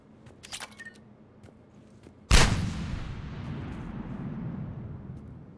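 A single loud, sharp report from a faster-firing gun in Mass Effect 3, set against quieter clicks and game noises before it and followed by a long, rumbling decay.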